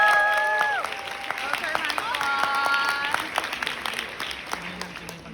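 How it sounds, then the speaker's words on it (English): An audience at a conference applauds an incoming speaker, with scattered claps over a noisy hall and some voices, fading to sparse claps near the end. "Let's give him a round of applause"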